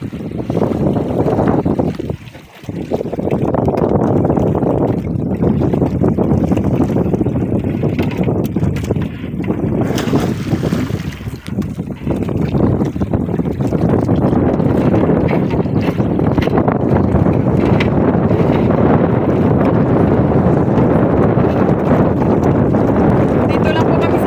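Wind buffeting a boat at sea on a fishing trip, a loud continuous roar against the microphone, with one brief dip in level near the start.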